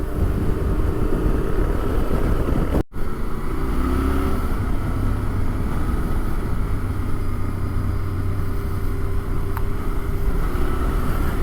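A Yamaha Tenere Rallye motorcycle rides along a sandy dirt track in the South Australian outback, its engine droning steadily under heavy wind rush on the microphone, with a brief dropout near the start.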